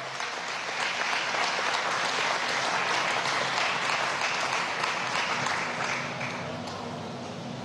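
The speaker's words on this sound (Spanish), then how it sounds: "Un aplauso." Crowd applause at a political rally in Antímano, Venezuela, a sustained wash of clapping from many people heard alone, steady for several seconds before tapering slightly.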